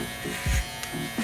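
An electric shaver buzzes steadily close by while cutting hair on the back of a client's head during a mid taper fade haircut, with a brief soft voice underneath.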